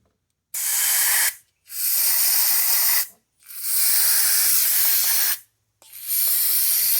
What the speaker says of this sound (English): Spray it out. Spray through the work ports.